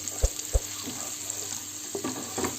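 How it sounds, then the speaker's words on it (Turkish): Vermicelli being toasted in butter and oil before bulgur is added, a soft low sizzle under a few dull knocks and scrapes of stirring, fairly faint overall. "şimdi tel şehriyeler renk alana kadar kavuracağım"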